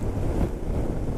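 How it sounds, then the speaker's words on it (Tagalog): Strong wind buffeting the microphone during a motorcycle ride, a loud continuous roar with gusty rumbling that covers everything else. "Ang lakas ng hangin."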